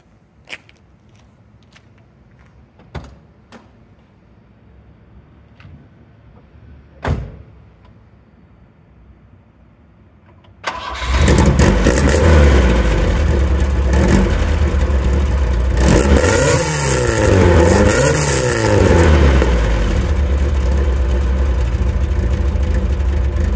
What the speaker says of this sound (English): So I'm going to fire it up now and hit the road.